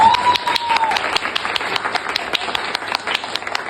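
A crowd claps together at an indoor gathering, a dense steady wash of many hands with sharp individual claps standing out, loud and continuous throughout with no talk on top.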